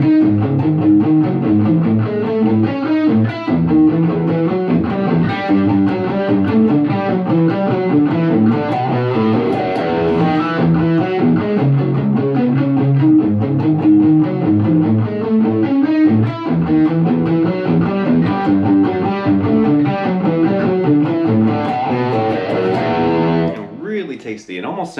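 Distorted electric guitar plays the chord progression of a tune, a steady run of effected chords and notes that stops abruptly near the end.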